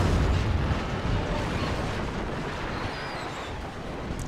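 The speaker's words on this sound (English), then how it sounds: "You guys are seeing artillery actually dropping in the forest there to kind of suppress the" Artillery shells exploding in a forest in the war strategy game WARNO, a dense, continuous rumbling barrage of low booms that stays loud for the whole stretch and eases off slightly toward the end.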